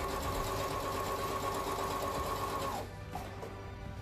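A sewing machine stitches angel wing flag fabric in a fast, steady mechanical whirr with rhythmic needle chatter, close and loud, stopping near the end to a quieter hum.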